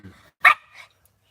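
A dog gives a single sharp, close bark followed by a softer short yip in an indoor setting, with a brief faint sound just before.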